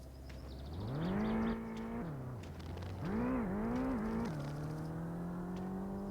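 A car engine in the video game My Summer Car revs up and holds a steady drone, dips, then climbs again in a couple of wavering surges before settling into a loud, even hum, with no talk over it.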